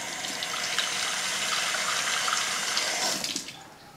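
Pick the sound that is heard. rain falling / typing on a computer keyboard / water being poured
water being poured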